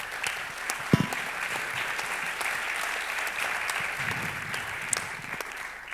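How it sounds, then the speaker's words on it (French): A conference audience applauds in steady, dense clapping that holds at moderate loudness for several seconds, with no one speaking over it. "On peut les applaudir."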